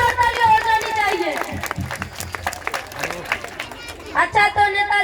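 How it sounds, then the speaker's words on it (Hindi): An audience claps and cheers for a politician at a village comedy show, loud crowd applause mixed with voices talking over it, swelling again near the end. "इसी बात पर नेताजी के लिए एक बार जोरदार ताली हो जानी चाहिए"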